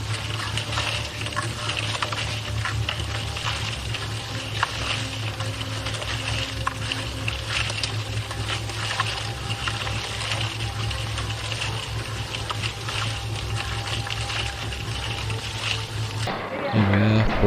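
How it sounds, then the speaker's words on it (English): Concrete mixer churning material at a railway build site, a steady dense rumbling drone that runs continuously for most of the clip before cutting off near the end. "I'm just getting some material into the mixer"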